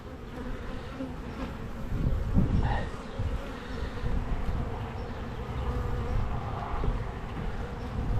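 A dense, steady buzzing of many honeybees around an open hive fills the air continuously, close by, with a low rumbling of wind underneath.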